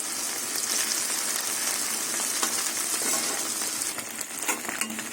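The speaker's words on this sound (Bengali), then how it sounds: "মাছগুলো ভালো করে কড়া করে ভেজে নেবো" Bele fish frying crisp in mustard oil in a kadai, a loud, dense sizzle close up with crackling spatters and occasional light clinks, easing a little near the end, with no speech.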